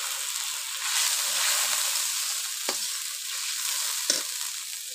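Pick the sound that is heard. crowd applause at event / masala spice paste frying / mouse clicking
masala spice paste frying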